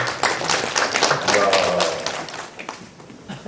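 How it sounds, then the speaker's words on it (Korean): A church congregation bursts into applause at a Sunday worship service, a loud wash of many hands that slowly thins out. A short exclaiming voice rises over the clapping. "박수"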